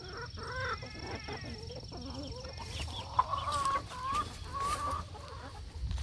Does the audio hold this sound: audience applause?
no